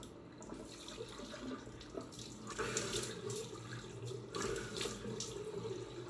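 Cold mountain water runs from a tap during a rinse after shaving, a soft continuous splashing and trickle at moderate distance with brief louder surges.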